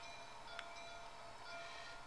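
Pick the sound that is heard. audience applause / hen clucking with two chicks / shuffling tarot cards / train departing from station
train departing from station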